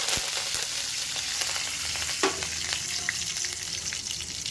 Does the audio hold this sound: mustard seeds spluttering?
yes